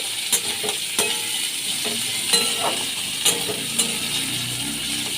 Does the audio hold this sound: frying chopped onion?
yes